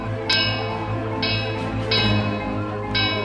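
A bell in a cartoon is pulled to cry out for justice, ringing four times in a steady, evenly spaced rhythm with bright ringing tones that linger over a low hum.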